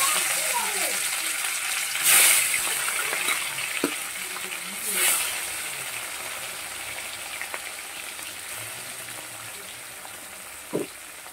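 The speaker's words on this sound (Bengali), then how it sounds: "কড়াটা গরম হয়ে গেলে এবার মাছগুলোকে ভেজে নেব" Large, thick pieces of bhetki fish fry in hot oil in a kadai, giving a steady, soft sizzling hiss with a few sharper crackling bursts, while a voice is faintly present.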